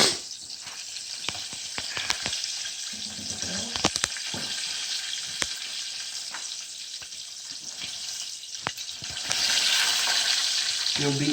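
Chicken pieces frying in hot oil for a fried chicken sandwich, a steady close sizzle and crackle with occasional clinks and clatter, growing louder toward the end.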